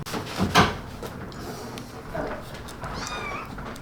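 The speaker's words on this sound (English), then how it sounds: "this is another cat we've found at the Sportsplex" A stray cat found at a sports complex meows, one clear call early and a softer rising one near the end, with scattered clatter and rustling between.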